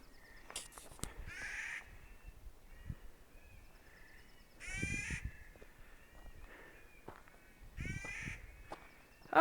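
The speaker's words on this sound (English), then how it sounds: "Beautiful birds, though. Can't tell what they are." Crows caw loudly in a San Bernardino National Forest setting near Big Bear, giving three separate bursts of harsh, raspy calls with quieter gaps between them.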